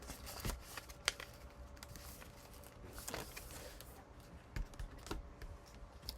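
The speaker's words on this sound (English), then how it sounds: "Fold the paper in half." Sheet of paper being creased and folded in half for a boomerang-style paper airplane, heard as soft rustling with a few crisp, snapping creases at close range, no voices.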